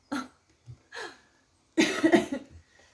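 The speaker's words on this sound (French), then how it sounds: "je tousse un peu plus que d'habitude" A woman recovering from Covid coughs several times in short, sharp bursts, with a heavier, rougher cough near the end and quiet pauses between.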